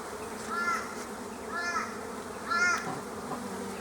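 Honey bees buzzing around an opened hive during super removal, a steady outdoor hum with three brief louder swells, close by, with no talk.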